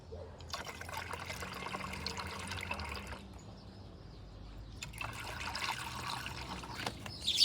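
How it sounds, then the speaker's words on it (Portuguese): Water and coolant additive are poured into a container for mixing during a water pump housing job on a Volkswagen EA111 engine, two distinct pouring streams with a short pause between them. "Eu vou pôr um pouco de água e um pouco de aditivo."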